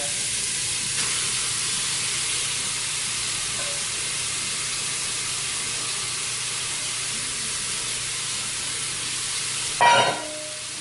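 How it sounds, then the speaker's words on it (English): Ground beef browns in a hot pan with a steady, even sizzle that holds throughout, broken near the end by a short scrape and clatter of stirring. "we're just gonna brown this ground beef"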